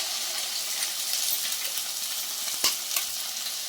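Beaten eggs sizzle in a hot pan with fried ivy gourd, a close, steady crackling hiss broken by a brief stir or scrape.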